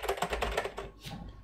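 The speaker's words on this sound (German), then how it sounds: "Ich kann jetzt hier tippen" Rapid, close key clacks on The C64 (2019), a Commodore 64 replica keyboard with emulation, struck in a quick uneven burst that thins out toward the end.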